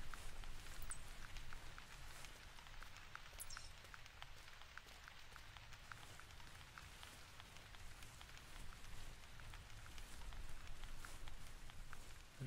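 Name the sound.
rain on a summer map in the video game theHunter Classic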